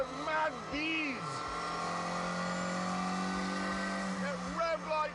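Engine of a twin-cam 1.6-litre car in The Grand Tour video game, revving up and down in a steady loud drone with rising and falling pitch sweeps near the start and end, under talk.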